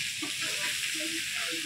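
Curry frying in oil until red makes a continuous close sizzle, with a voice speaking faintly underneath.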